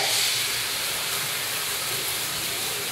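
Sardine steaks sautéing in hot oil with garlic and onion in a pan, a steady, even hiss of frying that carries on without pause.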